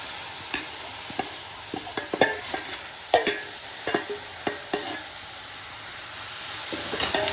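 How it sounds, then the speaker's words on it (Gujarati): A spoon stirs puffed rice into a bhel mixture in a pan, making a series of uneven scraping and rustling strokes, close and fairly loud, with a soft continuous background hiss. "હલાવી લેવાનું બધું મિક્સ કરી લેવાનું છે"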